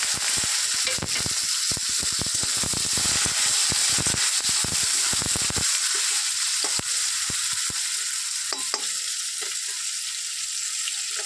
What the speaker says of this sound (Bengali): আর এই তেলের উপরে আমি জিরেটা দিলাম এবার আমি পেঁয়াজ কুচি দিলাম